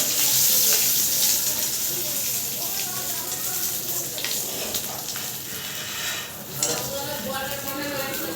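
Fish heads sizzle and crackle steadily in hot frying oil, a dense continuous hiss with occasional utensil scrapes, while a voice speaks over it.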